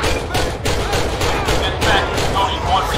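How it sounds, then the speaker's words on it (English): Dense gunfire in a GTA 5 street shootout, a steady loud rattle of repeated shots filling the whole span with booming low end. "Now I caused a shootout."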